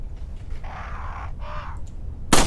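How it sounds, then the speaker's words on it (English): Crows cawing inside a church in the video game Resident Evil 4: two drawn-out harsh caws in succession over a low ambient rumble, followed by a sudden loud burst at the end. "Birds. I should kill the birds."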